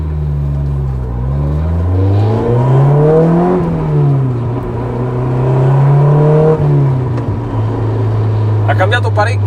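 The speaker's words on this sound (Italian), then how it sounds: "Passiamo al sound, lo scarico fatto da Thomas Muveggi di TM Technosport." Honda S2000 fitted with a TM Technosport aftermarket exhaust, revving with a steady harmonic drone that rises and falls through several throttle swells, loud and close, with a brief burst of other noise at the end.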